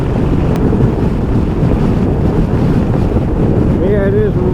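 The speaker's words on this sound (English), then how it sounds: "it is very windy today" Heavy wind roars across the microphone while riding a 2021 Sym MaxSym 400 scooter, a loud, steady rushing blast that covers the whole stretch with no letup.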